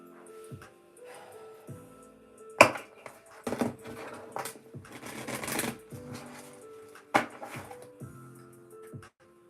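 Moonology oracle cards shuffled by hand: bursts of papery riffling and sharp slaps and taps of the deck, irregular and close, with quiet gaps between.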